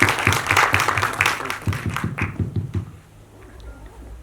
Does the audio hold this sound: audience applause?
yes